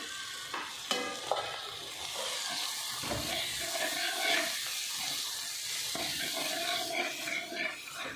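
Onions fry in a pan for an onion curry, with a soft, steady sizzle and hiss under intermittent spatula scrapes and stirring, fairly quiet and without speech.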